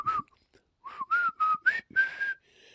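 A person whistles a short catchy melody of about six notes imitating the McDonald's jingle, with brief pauses between phrases, close and clear.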